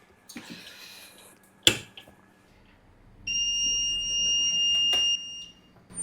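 A DTF heat press gives a steady electronic beep when its 15-second press ends, a continuous high tone lasting about two seconds after a few clicks and a sharp clack.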